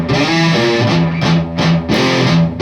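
A distorted electric guitar plays the riff over and over, loud and close, with rhythmic low chugs and accented chord stabs in a steady groove and no talking.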